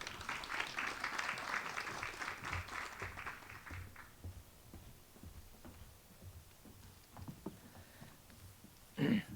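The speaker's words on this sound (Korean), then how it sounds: "박수로 맞이해 주시기 바랍니다." An audience claps for a few seconds, a dense patter of applause that fades out, followed by quiet room noise and a few scattered knocks.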